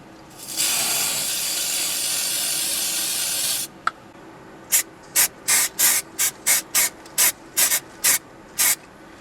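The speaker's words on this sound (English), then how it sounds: "going to spray the wheels" A long, steady spray hiss from an airbrush spraying acrylic paint onto a Dinky EV30 Express Dairy Van model's wheels runs for a few seconds, then about ten short spray bursts follow in a quick, even rhythm, close by.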